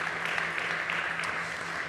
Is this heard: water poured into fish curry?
no